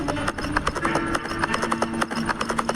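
A horse carries a prince away at a steady pace, its hooves clip-clopping in a quick, even rhythm close by, with a faint voice or music underneath.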